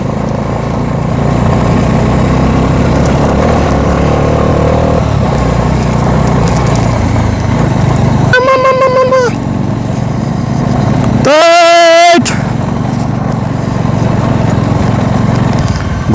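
A Bajaj Dominar motorcycle engine drones steadily and loudly while riding a rough, slippery dirt road, with two short sharp horn-like tonal bursts partway through.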